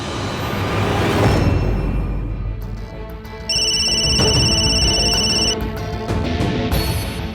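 An unanswered telephone rings in a drama scene, its steady electronic ringtone sounding clearly in repeated bursts over a faint background bed, with no voices in the pause.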